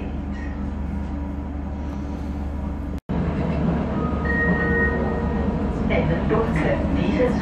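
An SBB RABe 520 Seetal GTW regional train on the Seetal line runs with a steady, loud rolling rumble throughout, briefly cut by a short gap near the middle, and faint squeals above. A voice is heard over it.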